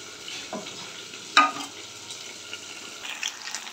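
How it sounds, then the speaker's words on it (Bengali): Tea simmering in a pan on the stove gives a faint, steady bubbling hiss, with a single brief clink partway through. "চাটা ভালো করে ফুটতে থাকুক"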